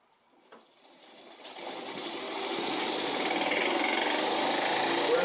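An electric motor driven by an open source FOC AC controller spins up from silence into a steady, rising whir that grows louder over a few seconds and then holds.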